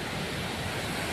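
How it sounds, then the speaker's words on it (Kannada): Heavy rain pours down in Israel, a dense, unbroken roaring hiss that is loud and close throughout, with no voices. "ಜೋರಲ್ಲಿ ಬರ್ತಾ ಉಂಟು ಮಳೆ."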